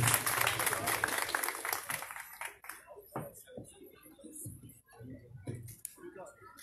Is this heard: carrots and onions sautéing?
no